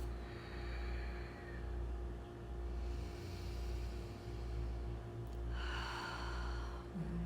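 A long, slow deep breath during a yoga flow, a soft airy inhale followed by a brighter, louder exhale near the end, heard close over a low steady hum.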